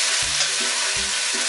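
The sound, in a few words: ginger garlic paste sizzling in hot oil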